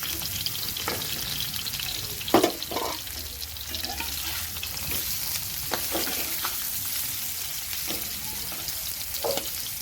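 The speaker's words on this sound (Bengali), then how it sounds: "এক পিস কলা হয়ে গেছে, আমি কলাগুলো আরও উল্টে দিলাম।" Plantain pieces sizzle in hot white cooking oil in a pan, a constant close crackle with occasional clattering knocks as the pieces are turned over.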